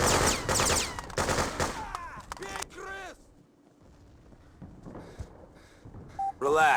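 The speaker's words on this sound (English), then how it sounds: "we're taking fire!" Brief rattling bursts of gunfire in the video game Freedom Fighters, set in a New York hotel, mostly in the first three seconds, with electronic beeps and tones and a few scattered clicks afterward.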